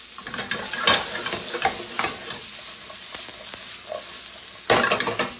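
Mushrooms sautéing in fat in a pan on a saute station, sizzling steadily while being stirred and tossed, with several louder bursts of scraping and frying and a big toss near the end.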